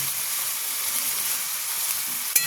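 Ginger and green chili paste sizzles steadily in a hot pan for a prawn and pointed gourd dish, a dense continuous hiss with one sharp clatter near the end and no voices.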